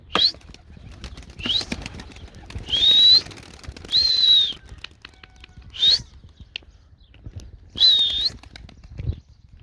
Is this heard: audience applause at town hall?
no